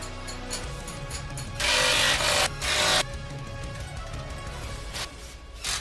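Ratcheting and clicking mechanical sounds from tightening or loosening a tight part on an RC car, with two longer, louder bursts in the middle and scattered sharp clicks around them.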